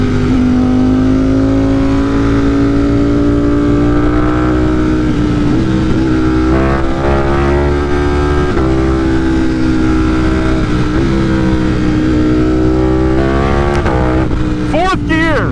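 A tuned motorcycle accelerates hard up through the gears, its loud engine pitch rising and dropping at each shift while the rider shouts excitedly over the close, continuous roar.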